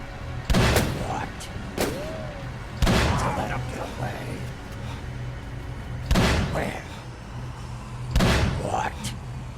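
Gunfire in the video game Call of Cthulhu: Dark Corners of the Earth: four loud, sharp shots spaced a couple of seconds apart, each with a short decaying tail, over a low game hum.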